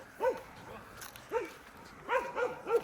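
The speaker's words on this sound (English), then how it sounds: "The reason she's barking is because the stick." A dog barks at a person holding a stick outdoors, sharp barks close by in an uneven series, with softer yips between them and a faint voice in the background.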